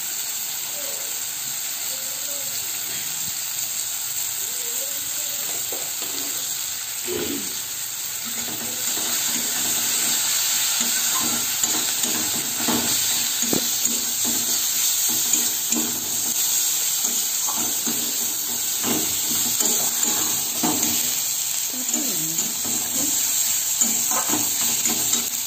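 Spices and turmeric frying in oil for masoor dal, a steady sizzling hiss with occasional stirring clatter that grows louder midway.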